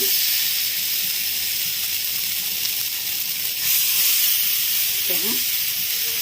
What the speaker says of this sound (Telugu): దీని మీద మనం ఒక్కొక్కటిగా ఫ్రై పీస్ అనేది పెట్టాలి. ఈ ఫ్రై పీస్కి ఆయిల్ అనేది కొంచెం ఎక్కువగానే పడుతుంది.